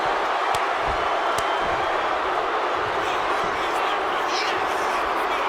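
Steady, dense crowd roar from a wrestling arena in the WWE 2K26 video game, loud and continuous throughout with occasional faint thuds.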